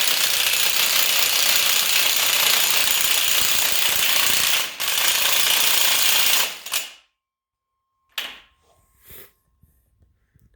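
A Milwaukee power tool hammers away on a small engine bolt from a junkyard 4.8 LS engine, a loud continuous rattling impact burst for about six seconds, then cutting out and giving a few short stuttering bursts separated by silence.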